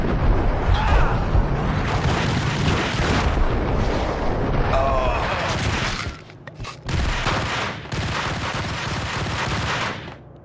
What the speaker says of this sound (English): the grenade spam in this is crazy